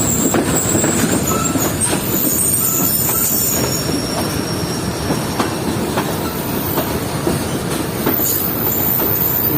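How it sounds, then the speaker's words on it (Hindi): The 6 Down Green Line Express, hauled by locomotive HGMU 8205, approaches Rohri Junction with loud, continuous rumbling, clattering wheels and high-pitched wheel squeal close by, without speech. "आ रही है 6 down green line express HGMU 8205 के साथ, जो कि अप्रोच कर रही है रोड़ी जंक्शन पर।"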